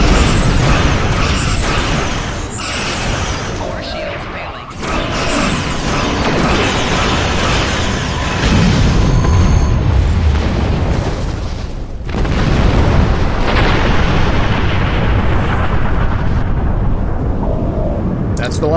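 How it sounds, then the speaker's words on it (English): Heavy booming torpedo explosions and rumbling impacts in the Star Trek Online space combat game, loud and repeated over a dense layer of game effects, with occasional voices. "Let's finish this with a spread of torpedoes."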